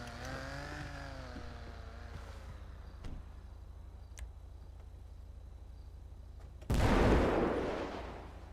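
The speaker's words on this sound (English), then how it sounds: "did you guys hear that explosion as well?" A sudden loud explosion in a roleplay driving game, a broad burst that hits after several quiet seconds of low engine hum and faint ticks, then slowly fades.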